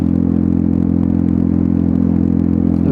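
A Lexmoto Milano motorcycle fitted with a Lextek exhaust rides at a steady pace on back roads, its engine giving a loud, constant, throaty drone up close, with faint clattering and wind noise.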